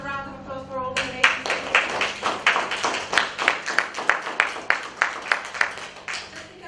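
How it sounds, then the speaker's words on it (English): After a voice speaks, an audience at a leadership talk starts clapping, a steady, moderately loud round of applause with distinct individual claps that tapers off near the end. "shall we give another round of applause for all the ladies?"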